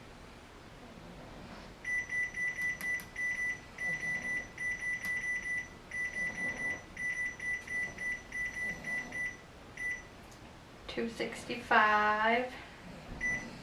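An air fryer's control panel gives a long run of short, sharp electronic beeps in a quick, irregular pattern while it is being set. The beeps stop, and then a nearby voice speaks briefly.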